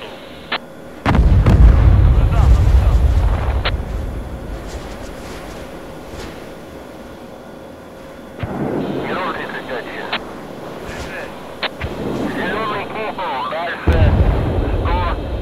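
Combat fire sounds as repeated heavy booms and sharp gunshot cracks, some near and loud and others duller with long rumbling tails. Wind buffets the microphone and a voice talks in between.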